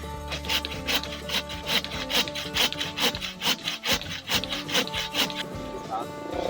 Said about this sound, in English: So we're gonna be limbing this walnut tree, our favorite one.